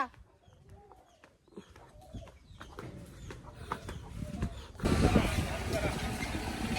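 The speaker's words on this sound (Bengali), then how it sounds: "এই সাদা এই মুরগিটা কার" A white hen clucks in a village yard, short calls scattered over the first seconds. Voices and household noise run underneath, and a louder broad rush takes over near the end.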